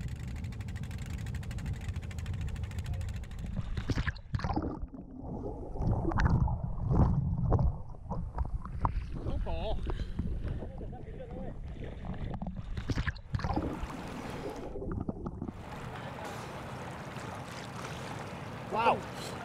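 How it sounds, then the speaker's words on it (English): A steady low boat engine drone runs throughout with splashing sea water and wind, rising and falling slightly over time. "It's the boat, it's the engine I hear."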